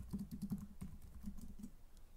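A message is typed on a computer keyboard to fill in a web form, a short run of quiet, close keystrokes tapping in an uneven rhythm.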